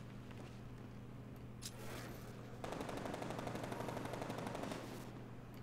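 Gunfire in the video game Batman: Arkham Knight: a rapid, even burst of automatic fire starts partway through and rattles for about two seconds over a low game hum, faint and at a distance.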